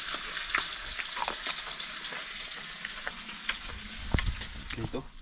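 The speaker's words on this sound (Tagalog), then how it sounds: "Dito naman tayo sa gisa." Vegetables and tomatoes sauté in a hot pan, giving a steady close sizzle with intermittent scraping and stirring clicks throughout, no talking.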